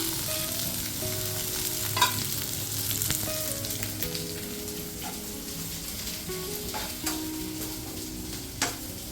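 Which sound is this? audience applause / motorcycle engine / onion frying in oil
onion frying in oil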